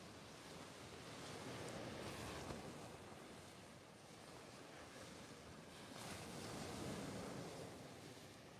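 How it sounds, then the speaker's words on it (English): Strong gusting wind at the seashore, around 30 to 40 mph, roaring in a broad steady rush over surf. Gusts swell twice and ease again, with no talk. "the wind is gusting like 30,"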